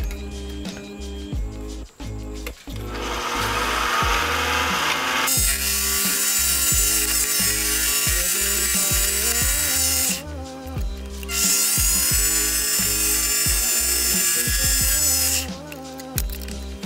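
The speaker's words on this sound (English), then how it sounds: "I tried cleaning up the surface with some sandpaper" Sandpaper rubs on an acetal motorcycle frame slider spinning in a mini lathe, a steady motor whine under scratchy, rhythmic abrasive rasping that swells in two long passes with short pauses.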